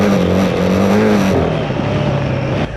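Royal Enfield Himalayan 450 with rally kit and Dunlop 50/50 adventure tyres riding in an arena show, a steady loud engine drone with a single-cylinder hum that dips slightly in pitch midway and holds on.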